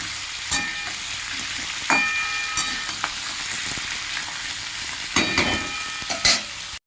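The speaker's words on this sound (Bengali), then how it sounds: "আর দিয়ে দেবো উচ্ছে, এগুলো খানিকক্ষণ ভেজে নেব।" Sliced bitter gourd frying in hot oil in a pan, a steady close sizzle punctuated by a few sharp stirring scrapes and clinks, with no voices over it.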